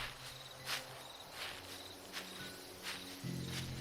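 Crickets and other night insects chirp steadily outdoors at night, soft and distant, with regular pulsing trills and a faint low hum underneath.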